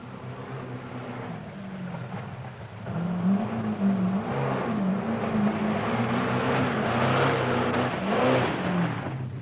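A Datsun rally car in the 1979 Safari Rally drives on rocky roads, its engine a steady loud drone that swells and climbs in pitch, with a commentator speaking over it.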